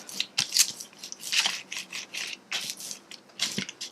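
Close, gentle rubbing on the back of a paper print laid over a stencil plate, heard as repeated short scratchy strokes in an uneven rhythm with no voices.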